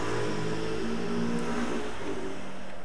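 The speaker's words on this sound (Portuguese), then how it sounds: "Escutam só os barulhos das motos." Motorcycles pass outside while a classic Xbox is being repaired indoors, a continuous loud engine drone and rumble heard from within the room, with no voices.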